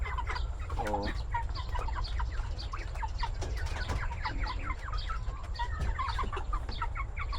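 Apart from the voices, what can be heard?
chickens clucking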